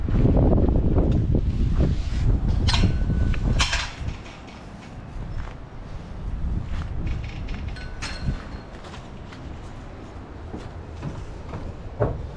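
Wind gusting outdoors, a loud rushing roar at first that drops to a softer, steady breeze with scattered knocks and rattles nearby.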